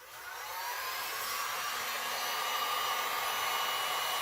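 A heat gun blowing hot air over ocean-wave resin art, a steady whooshing fan roar that swells slightly in the first second and then holds loud and close.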